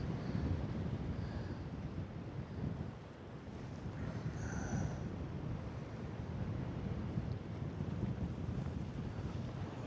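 Strong wind rushes steadily over the microphone while paragliding on a Niviuk wing, a loud, continuous buffeting roar with gusty swells that dips briefly midway and carries no voices.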